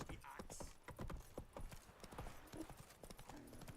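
Horse hooves clip-clopping at a steady gait in the Witcher 3 video game, a close, continuous patter of hoofbeats with a voice talking over it.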